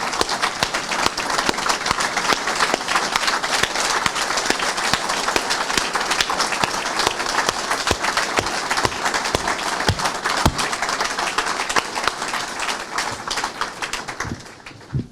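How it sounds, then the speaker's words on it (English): Applause for a transit workers' union and its members at a remembrance and recognition event, sustained crowd clapping throughout with a few sharper claps standing out, fading slightly at the end. "give this union and our membership a round of applause"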